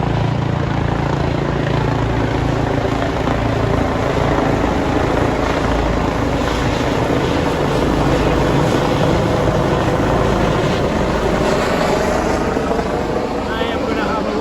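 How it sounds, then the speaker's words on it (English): A helicopter roars overhead, loud and steady with a constant thudding rotor drone throughout. "Got a helicopter flying over right now."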